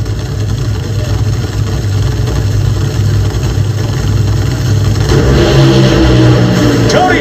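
Top Fuel dragsters at the NHRA Northwest Nationals 2024 at Pacific Raceway, with Tony Stewart's car smoking its tires at launch: a loud, continuous engine roar that swells and rises in pitch toward the end.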